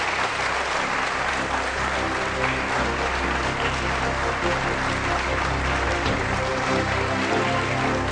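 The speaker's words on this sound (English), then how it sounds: "Let's give him a round of applause as well." Sustained, dense applause from a large audience at a live 2013 Kenyan presidential candidates' debate, filling the full eight seconds at an even, steady level with no voices standing out.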